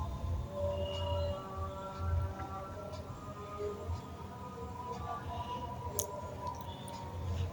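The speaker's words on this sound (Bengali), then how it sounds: "এখন আমি দিয়ে দেব ভেজে রাখা মেটে আলুগুলো। মেটে আলুগুলো ভালোভাবে নেড়ে ছেড়ে দিচ্ছি।" Fried yams are stirred in a cooking pot for a fish-head curry, giving soft squishing and scraping sounds over a low background rumble and faint sizzle, steady and close throughout.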